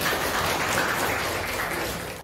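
A school class applauds together in a classroom, a steady dense wash of clapping from many hands that holds evenly and then cuts off abruptly at the end.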